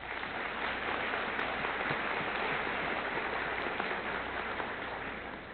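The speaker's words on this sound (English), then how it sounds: "let's give him a round of applause" An audience at a Norfolk Collegiate graduation ceremony applauds in a steady, even wash of clapping that stays constant throughout, heard at a fair distance.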